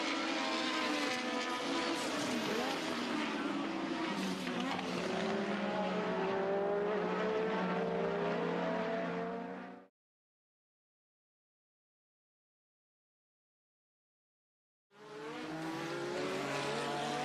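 Early-1980s Formula 1 cars scream past in a Dutch Grand Prix overtaking battle, loud high-revving engines rising and falling. A sudden silence cuts in before another car roars back in.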